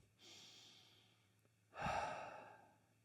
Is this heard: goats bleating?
no